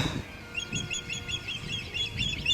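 Hawk chicks in a nest by the Waccamaw River give repeated thin, high chirping calls in quick bursts, steady and fairly close, over a low background rumble.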